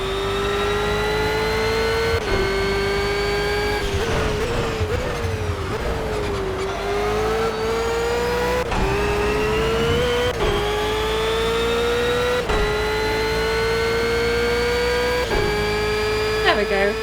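A race car in the Project Cars video game screams around the Azerbaijan GP circuit, its engine loud and constant, with steady high revs rising and falling through repeated quick upshifts.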